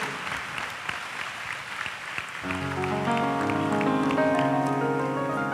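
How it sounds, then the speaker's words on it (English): An audience at an evening anniversary celebration in Prasanthi Nilayam gives a brief round of applause to open a quiz. A dense patter of clapping lasts about two seconds before sustained music takes over. "can we begin the quiz with a round of applause?"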